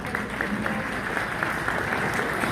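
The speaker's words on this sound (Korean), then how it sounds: "큰 박수로 모셔보도록 하겠습니다" Wedding guests break into steady applause, a dense wash of many hands clapping at even loudness for the whole stretch.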